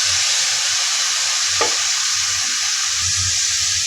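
Kurinja greens with roasted grated coconut being stirred in a pan, a loud steady sizzle with a single sharp scrape of the spoon partway through and faint movement after, no talking.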